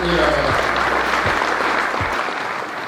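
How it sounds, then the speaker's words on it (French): Strong crowd applause for the volunteers at a fishing club championship, dense and sustained, with a low voice and a few thumps audible at the start. "je tiens à ce qu'on les applaudisse vraiment très très fort, les bénévoles"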